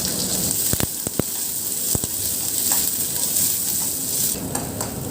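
Mustard seeds, dal, chilli, curry leaves, shallots and garlic sizzle and crackle in hot oil in a pan. The frying hiss is steady and close, broken by a few sharp stirring clinks.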